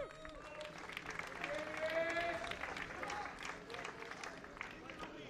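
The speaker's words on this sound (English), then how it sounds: "Big applause for you two" Crowd applause for the sidecar race podium finishers at the 2024 Sidecar World Championship sprint race at Autodrom Most, a busy outdoor ovation with chatter and babble mixed in, steady throughout.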